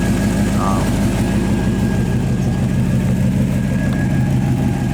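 A 1952 Chevrolet Bel Air engine idles steadily while warming up, with a deep, even rumble, loud and close, holding the same note throughout.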